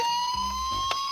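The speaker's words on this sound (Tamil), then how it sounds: "ஆம் நண்பர்களே, அது ஒரு ஆம்புலன்ஸ் தான்." A brief stretch of an ambulance siren wailing with a high steady tone, fairly loud and alone.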